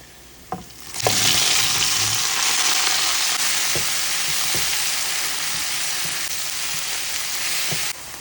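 Spinach hits hot oil tempered with dried chili and sets off a loud, continuous sizzle that surges in suddenly and stays strong, with a few light knocks and clinks of utensils along the way.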